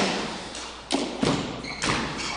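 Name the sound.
racquetball ball hit in a shot, thudding off the wall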